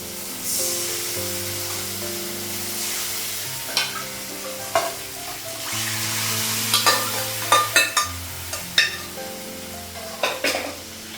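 Dal (lentils) being stirred in a pot over frying heat, a steady sizzle under repeated scraping strokes and sharp clinks of the spoon against the pot, close and fairly loud, with no talk.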